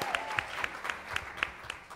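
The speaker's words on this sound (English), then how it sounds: "Let me first give them a big round of applause." An audience at a policy conference gives a round of applause, steady clapping from a crowd with sharper individual claps standing out, heard at moderate distance and filling the whole moment.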